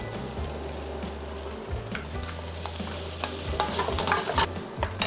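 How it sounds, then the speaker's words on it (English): Cooked rice is stir-fried in a pan with soy sauce and sesame oil, an intense close sizzle with constant scraping and tossing of the spatula, rising slightly toward the end, no voices. "At this point, we're gonna add in our rice."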